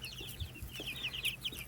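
Chickens cluck softly while pecking at mealworms alongside guineas, with short, irregular clucks and chirps at low volume over a quiet farmyard background.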